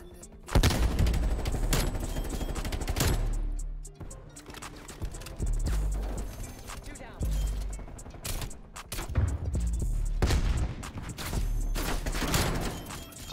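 Rapid automatic gunfire from a Groza rifle and other weapons in a Call of Duty Black Ops Cold War multiplayer match, loud sustained bursts with brief pauses and clanking mechanical sounds throughout.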